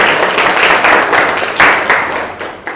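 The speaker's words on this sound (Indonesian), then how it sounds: "kita berikan tepuk tangan yang luar biasa" Classroom applause for students after their morning presentations: a burst of many hands clapping, loud and near, swelling in uneven waves and tapering toward the end.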